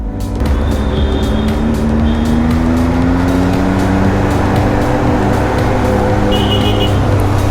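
A motorcycle with a loud aftermarket exhaust revs hard, a continuous, loud engine roar whose pitch climbs steadily over several seconds, close to the rider.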